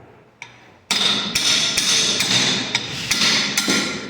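Hammer tapping on a car alternator part during a repair: a single light tap, then a sharp metallic strike followed by a run of quick, uneven blows, close and clear with no voices.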